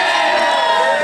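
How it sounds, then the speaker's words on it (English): A wrestling crowd at a W.O.W. no-limits fatal four-way match, a dense, loud wall of voices chanting and cheering together in a packed venue, steady and sustained throughout. "I don't want to repeat what the crowd is chanting here now"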